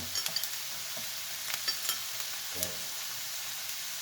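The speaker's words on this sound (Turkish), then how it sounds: "Önce soğanları biraz kavurduktan sonra yağ biberlerimizi atıyoruz sırasına." Onions and sweet peppers fry in a pan with a soft, continuous sizzle, broken by a handful of light taps and scrapes from a stirring utensil.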